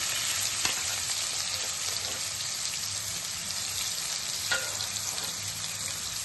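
Sliced onions and green chilies frying in a pan for a dhaba-style cauliflower curry give a steady, close sizzle throughout, with a couple of soft stirring scrapes and no talking.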